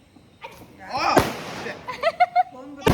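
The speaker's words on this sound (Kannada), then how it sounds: "ಅವಳು ಪಟಾಕಿ ಹೊಡಿತಾಳೆ" A sharp firecracker bang bursts out amid voices at a Tulsi festival celebration, followed by crackling and a few smaller pops, with talk and shouting around it.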